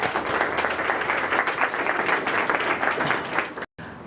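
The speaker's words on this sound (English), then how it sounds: "Give yourself a round of applause if you're enlightened." An audience at a business talk bursts into steady, moderately loud applause with dense overlapping claps that stop abruptly near the end.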